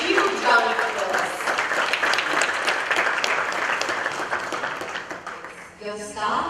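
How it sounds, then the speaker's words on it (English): Audience applause at a Canon product launch event: a loud, sustained burst of clapping from a crowd that gradually thins and fades toward the end, with a voice briefly emerging as it dies down. "a huge round of applause"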